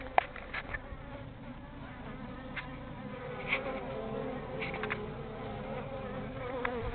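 Bees buzz around an overwintered top bar hive, a continuous dense hum from many insects with individual bees zipping close past now and then, fairly quiet and without speech.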